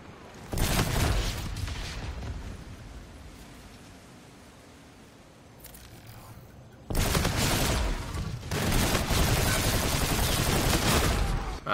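Gunfire in the video game Call of Duty: Infinite Warfare, loud close bursts of automatic fire with booming blasts, a quieter lull in the middle, then sustained heavy shooting resuming.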